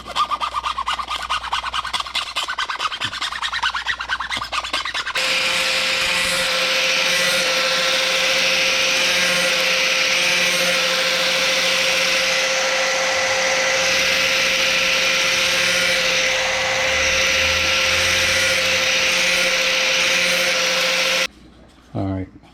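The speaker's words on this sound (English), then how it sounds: "when you cutting stuff, never push the blade. Let the blade do the work itself. So let the blade cut." A power saw blade cuts steadily through a polycarbonate plate for a car install, a loud continuous whine lasting most of the clip before stopping abruptly, with brief talk at the start.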